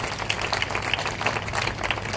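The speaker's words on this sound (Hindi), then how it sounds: "तालियां बजाओ विद्या के।" A crowd claps at a colony inauguration ceremony in Hatod, Shivpuri, a dense, even wash of applause with scattered sharper claps, moderately loud throughout.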